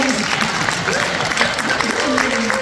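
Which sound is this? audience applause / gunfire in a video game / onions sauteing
audience applause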